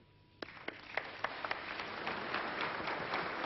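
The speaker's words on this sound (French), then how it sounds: "Les applaudissements ne sont que politesse" Applause from an audience after a political speech on Russia's reforms and future, starting with a few scattered claps that quickly swell into steady, dense clapping across the room.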